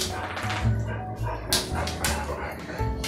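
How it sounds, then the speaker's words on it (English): Several excited pet dogs bark and yip in a home kitchen while a meal is being served, the barks coming in short irregular bursts at moderate distance amid household clatter. "The dogs are all excited."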